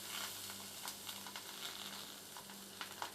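Small pancakes fry in a pan with a steady, soft sizzle and a faint, even crackle throughout, with no voices.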